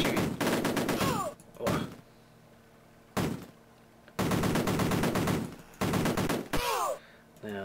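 Rapid bursts of gunfire from soldiers in the Amiga game Cannon Fodder, several sustained rattling volleys separated by short gaps, loud and close, with a player's brief voice in between.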